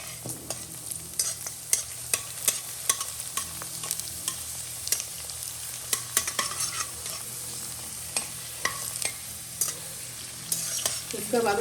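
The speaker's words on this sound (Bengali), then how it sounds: "ফুচকা বাজার সময় কিন্তু জাল একদম কমিয়ে দিতে হবে।" Puchka (fuchka) dough puris frying in hot oil on low heat, with a steady sizzle and bubbling broken by repeated clinks and scrapes of a stirring utensil, close and moderately loud, with no talking.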